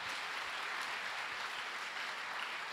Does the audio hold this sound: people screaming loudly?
no